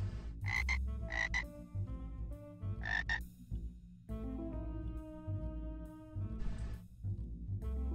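Frogs croak in the video game Hidden Kitten, with several short, loud, rasping bursts that recur irregularly over light, tonal game music.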